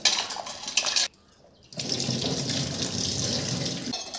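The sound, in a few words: washing taro root under running water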